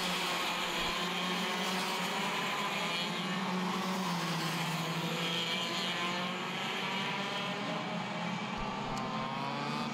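IAME X30 racing karts drone past on the Le Mans circuit during a super heat, a steady, dense high-pitched engine whine that holds at a fairly even level throughout.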